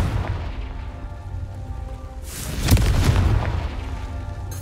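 A Confringo blast spell explodes in Hogwarts Legacy, a loud booming burst with a rumbling tail that swells midway through the clip over a steady low game ambience.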